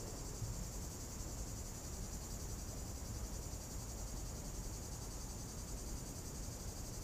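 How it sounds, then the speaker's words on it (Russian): A cicada sings in a pear tree in Crimea, a steady, unbroken high buzzing drone held at an even level throughout, with faint background noise and no voices. "Да, цикада прикольно."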